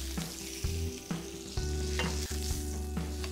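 Steaks sizzle on a grill in a continuous close crackle, broken by repeated scraping and stirring knocks as the meat is moved about; no voices.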